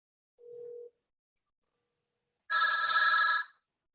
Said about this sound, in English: I'm going to do a manual dial and call my cell phone